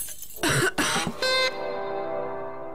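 A cough in a Swedish advert for Bisolvon lemon-flavoured soluble tablets: a few loud, close, harsh coughs in quick succession, ending with a bright ringing chime that fades out.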